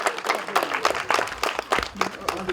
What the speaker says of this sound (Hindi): जोर से तालियां इनके लिए।